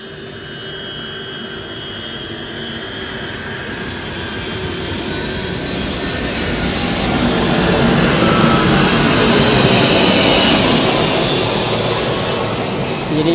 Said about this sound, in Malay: Sekejap ada kapal terbang lalu.